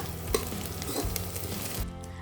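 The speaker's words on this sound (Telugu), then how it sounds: "ఇప్పుడు 3 ఇలాచి, అలానే 2 ఇంచుల దాల్చిన చెక్క, 4 లవంగాలు వేసి వీటన్నిటిని 1 నిమిషం పాటు వేయించుకోవాలి." Whole cardamom pods, a cinnamon stick and cloves frying in oil in a pan, a dense, close crackling sizzle with a few stirring knocks, steady and fairly loud before dropping off at the end, no voices.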